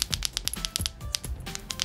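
A gamer-style fidget toy is clicked and rolled, producing rapid, irregular plastic clicks and ticks close up, like light key taps in quick succession.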